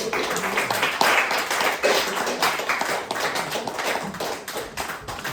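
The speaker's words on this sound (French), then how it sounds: "Alors, tonnerre d'applaudissements pour Géry, s'il vous plaît." Audience clapping and applause at a French stand-up comedy show, a dense burst of many hands that stays loud and fairly even throughout, with some scattered whoops.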